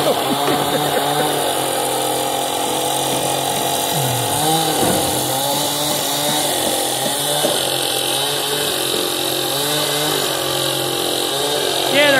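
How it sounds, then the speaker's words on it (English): A chainsaw cuts timber at an Amish barn raising, a loud, continuous engine whine that rises and falls as it bites into the wood, with voices faintly underneath. "they're cutting the tongue off with a chainsaw"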